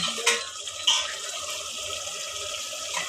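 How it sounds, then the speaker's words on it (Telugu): Water is poured into a pressure cooker holding mutton curry, a steady close splashing rush with a brief louder gush near the start, no talk. "అయితే ఇప్పుడు తగినట్టు నీళ్ళు పోసేస్తా."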